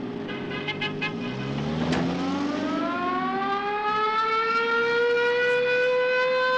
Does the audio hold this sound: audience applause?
no